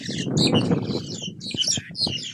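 A dense chorus of many black birds in grass chirping and calling at once, noisy and continuous, with overlapping high tweets over a busy low rumble.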